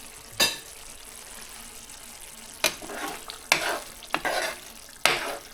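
Squid sizzles softly in a pan on a gas stove, broken by a handful of sharp stirring scrapes spaced a second or so apart, close and quiet with no speech.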